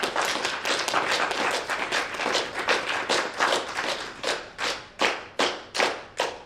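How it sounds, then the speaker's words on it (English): A studio audience claps in unison, a run of loud, evenly spaced claps during a Deal or No Deal style game show, starting quick and dense and slowing into distinct separated claps near the end. "Let's get 17 claps for case number 17."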